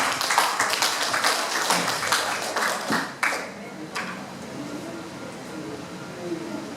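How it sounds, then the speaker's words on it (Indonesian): A seminar audience gives a short burst of close, dense clapping that breaks into scattered claps and fades after a few seconds, leaving a quiet room with faint murmurs. "Beri aplaus untuk KRBA"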